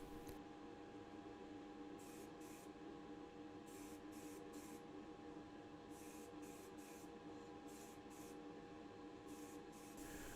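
Motip High Gloss Black aerosol spray painting the diecast bottom plate of a Matchbox 62B Commer van: a steady, close hiss of spray continuing throughout, with brief louder bursts at intervals.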